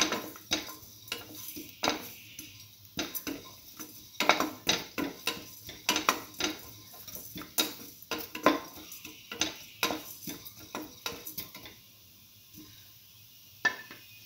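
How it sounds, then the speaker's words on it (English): Scrambled egg and bread stir fry being sautéed in a pan, with a utensil scraping and clinking against the metal in rapid, irregular strokes and a faint background sizzle, then easing off near the end. "Thoroughly saute mix."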